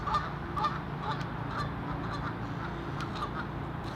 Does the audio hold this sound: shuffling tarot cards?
no